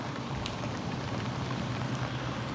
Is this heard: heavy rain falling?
yes